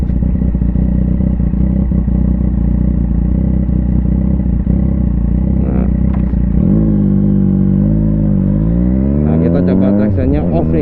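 A motorcycle ridden with traction control switched off pulls hard and accelerates, its engine drone steady and loud before rising in pitch through the final seconds, heard close with wind rumble and no clear talk.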